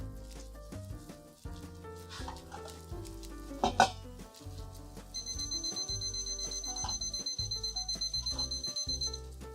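A meat thermometer probing pork starts beeping as the meat reaches temperature, a steady run of short high electronic beeps in the second half over kitchen clatter and background music.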